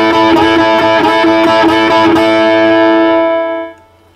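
Electric guitar plays a 12-bar blues riff in A, accenting the first note of each series in a steady repeating rhythm, then lets the last chord ring and decay, close and loud.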